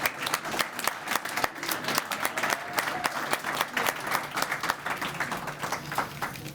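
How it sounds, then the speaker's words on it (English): Audience applause at a university business competition awards reception, a dense sustained wash of many hands clapping steadily throughout with no talk over it. "Let's give all our participants a great hand."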